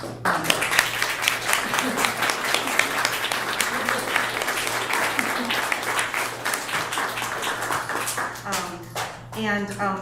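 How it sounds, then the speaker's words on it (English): A Sunday church congregation gives Jim a round of applause, sustained dense clapping from many hands over a low steady hum, ending with a voice starting to speak near the end. "give Jim a round of applause and thank him"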